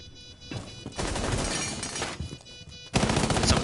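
Rapid automatic gunfire in Rainbow Six Siege, loud and close, rattling in dense bursts with a short lull before a harder final volley.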